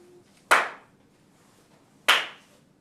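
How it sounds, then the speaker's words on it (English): Two sharp, loud hand claps about one and a half seconds apart during a Shinto prayer at a shrine, each with a short fading tail, set against quiet. "Bow twice and clap my hand twice, then bow once again."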